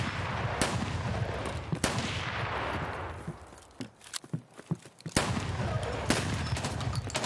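Video game shotgun fire booms out in several sharp, loud blasts, one of them on a busy firefight bed with a brief lull between shots.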